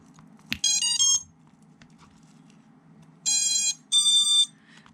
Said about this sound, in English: the first 3 beeps indicated that the ESCs had power and they're all good